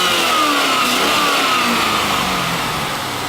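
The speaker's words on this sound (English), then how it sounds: "Go ahead and rev it up." A 350 hp LS1 V8 from a 2001 C5 Corvette, mated to a manual transmission, revving loud and close, a dense continuous roar that eases slightly as the revs drop.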